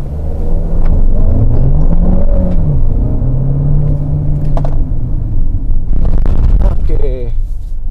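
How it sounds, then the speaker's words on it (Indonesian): Chery Omoda 5 GT with a 1.6-litre turbo engine accelerating hard in sport mode, heard from inside as a steady loud rumbling engine drone that rises in pitch, with a voice speaking briefly near the end. "sekarang saya mau coba akselerasi sekali lagi pakai mode sport"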